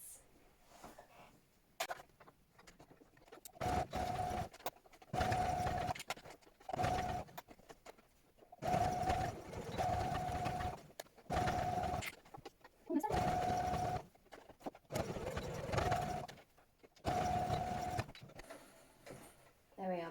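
A sewing machine stitches around the top of a slipper padded with thermal batting. It runs in repeated short bursts with a steady whirring hum and brief pauses between them, fairly quiet and close.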